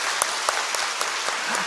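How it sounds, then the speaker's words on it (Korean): Church congregation applauding during a Sunday worship service: steady, dense clapping from many hands, filling the room at an even level with a few sharper individual claps standing out. "박수 한번 합시다"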